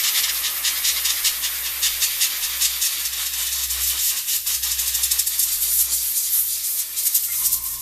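Compressed air from a small airbrush compressor hisses steadily as it blows dust off a finished surface, a continuous close, loud rush with slight fluttering and no speech.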